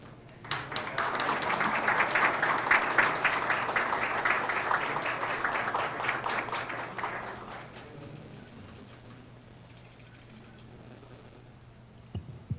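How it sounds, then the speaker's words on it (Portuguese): A crowd at a governor's press event breaks into applause. Steady, full clapping builds quickly and holds for about seven seconds, then fades to a quiet room murmur. "Que aplaude, não?"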